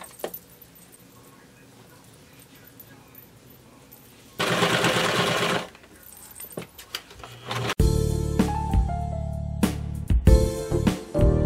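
A home sewing machine stitches down fabric on a loungewear waistband, with a short burst of fast whirring mid-clip followed by clattering handling and louder mechanical rattling toward the end.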